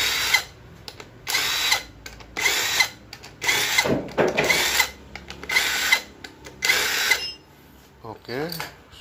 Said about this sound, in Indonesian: baut 12 nya dibuka semuanya.